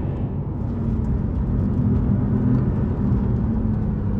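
A Porsche 911 Carrera T with a sports exhaust sends out a steady, throaty engine drone from a moving car, holding an even, mid-level roar with no talk over it.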